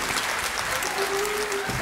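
Audience applause for an actor playing a puli at an open rehearsal of the play Liliomfi, a steady, dense clapping from a crowd that fills the whole stretch without pause.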